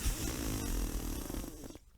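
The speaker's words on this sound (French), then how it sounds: "Bientôt les ronflements de l'ogre s'élèvent." One long, loud, rattling snore from an ogre, a throaty, gurgling story sound effect that fades away at the end.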